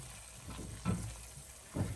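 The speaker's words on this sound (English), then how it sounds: "And just stir the aubergine in. Get all that sauce around the aubergine." Aubergine being stirred into a bhuna sauce in a pan over very low heat, a faint soft scraping and a gentle simmer, with two brief louder stirring strokes.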